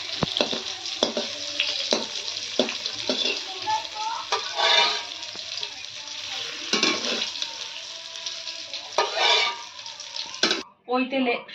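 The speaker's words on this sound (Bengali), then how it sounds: "এগুলো হালকা তেলের উপর দিয়ে একটু ভেজে" Egg pieces fry in a little oil in a pan, a steady close-up sizzle with scraping stir strokes and clinks scattered throughout, ending abruptly.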